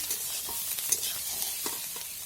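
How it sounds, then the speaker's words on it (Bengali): Fried soybean chunks being stirred into cooked spices in a pan for a potato-soybean curry, giving a steady soft sizzle with scraping spoon strokes throughout, no talking. "এরপর নাড়িয়ে সব কিছুকে আমি মিক্স করে নিচ্ছি।"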